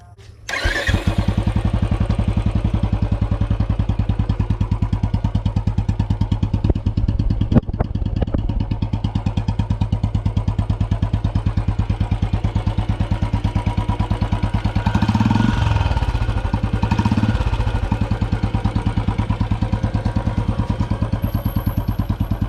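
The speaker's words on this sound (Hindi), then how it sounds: "लेकिन मैं एक बारी आपको सुना भी देता हूँ" A Royal Enfield Bullet Classic BS6 motorcycle engine starts and then runs with a steady thumping idle, loud and close, with a couple of brief revs partway through and no talking.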